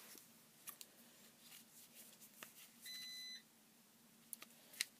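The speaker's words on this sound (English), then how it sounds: "Ignore the beeping noise." Electronic beeps from a device, a sustained tone lasting about half a second in the middle, plus a few short sharp clicks and taps, all faint in a quiet room with no talking.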